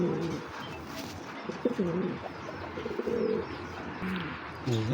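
Giribaj pigeons coo in repeated soft, throaty bursts from close by, with a steady hum of room background beneath and no talk.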